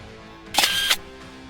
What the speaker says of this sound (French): sourit et appuya sur le déclencheur.